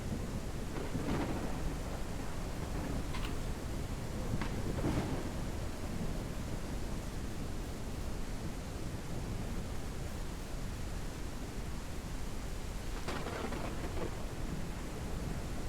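Steady heavy rain pours with wind in a Ranch Simulator storm, with several rolling thunder cracks and rumbles breaking through the constant hiss.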